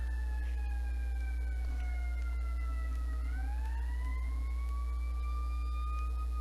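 A wailing emergency siren rises and falls steadily over a constant low hum, heard from a moderate distance.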